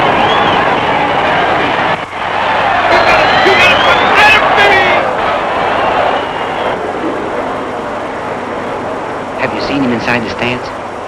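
Dense crowd roar at a horse race track in a 1959 crime film scene, a loud continuous wash of cheering and chatter with voices shouting over it throughout.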